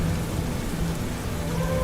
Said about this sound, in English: The delicate sound of distant thunder